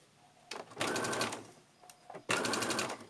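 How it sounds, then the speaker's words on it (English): Sewing machine stitching the inside pocket of a bag, two separate bursts of fast, steady mechanical running, each lasting about a second, with a quiet pause between. "Take it to your machine and just take that starting point, pin it out, and start stitching."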